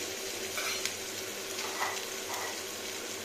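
Soft, steady sizzling of onions frying in a pan for a Malabar spinach dish, with a faint hum and a few light scrapes of stirring; fairly quiet and close.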